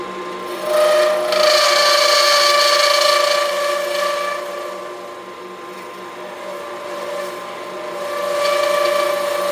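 A wood lathe spins a pen blank while a large gouge cuts it, giving a steady tonal whine with a scraping, rasping cut that swells loud, eases in the middle, then builds again.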